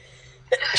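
A single quick sneeze bursts out after a brief quiet lead-in, sharp and close.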